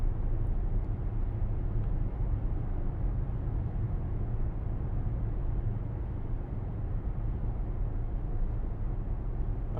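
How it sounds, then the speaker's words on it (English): A 2018 Mercedes-AMG GLC63 S with its V8 biturbo engine produces a steady, low, rumbling drone, heard from inside the cabin at moderate loudness for the whole stretch, with no talk. "I could listen to that engine note"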